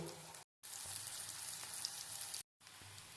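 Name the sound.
bitter gourd frying in mustard oil in a wok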